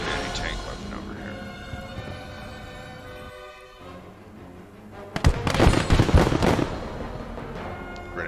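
Grenade blasts in the World War II video game Gates of Hell, a burst of loud explosive cracks and booms arriving suddenly after a quieter stretch, with someone talking over the game sounds.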